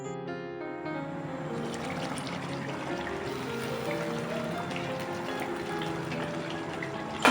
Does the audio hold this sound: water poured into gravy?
yes